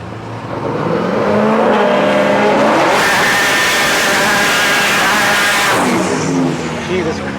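A Silverback Camaro drag car launches at Rocky Mountain Raceweek and screams past at full throttle, a loud, harsh engine roar that builds, peaks and then fades as it pulls away.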